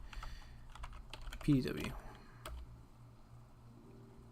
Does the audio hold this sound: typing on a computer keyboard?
yes